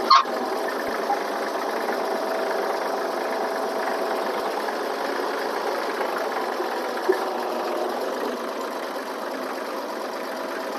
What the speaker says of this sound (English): Hopefully you can still hear me on this old tractor.